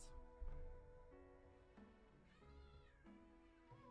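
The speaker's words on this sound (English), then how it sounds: "And now the other cats are fighting." Several cats meow and squabble in an indoor setting, with overlapping drawn-out yowls and short cries, moderately close and fairly quiet, with no talking over them.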